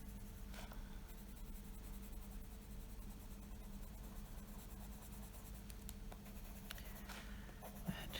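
A colored pencil is pressed harder while blending on paper, giving a continuous close scratchy scrape of strokes back and forth with a few small taps and no talk.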